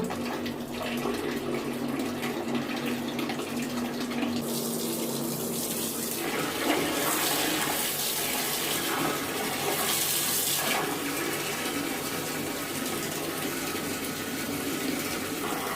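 A Parkside PTPK 400 A1 submersible pump discharges water: a strong, steady rush gushing out under high pressure, loud and continuous, with the flow surging and shifting partway through.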